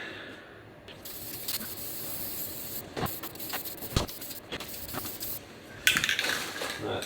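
A truck transfer case is spray painted orange in short bursts of aerosol hiss, separated by sharp clicks and clanks of handling, heard up close against a quiet background.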